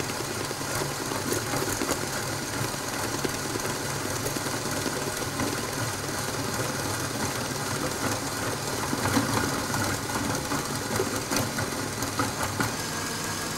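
A stand mixer whips Italian meringue for a lemon tart at medium speed, giving a steady, close, unbroken motor whir with a faint rattle that stays even throughout and has no voices over it.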